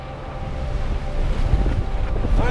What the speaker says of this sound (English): Finally some wind